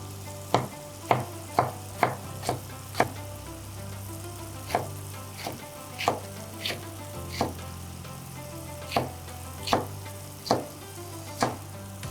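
Green chillies and masala fry in oil in a karahi for white chicken karahi, with a continuous sizzle broken by regular sharp ladle clacks and scrapes as the mixture is stirred.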